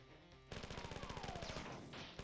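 Rapid magnum gunshots in the video game Marathon, a fast run of sharp, evenly spaced bangs that begins abruptly after a brief hum of game ambience and carries on loud to the end.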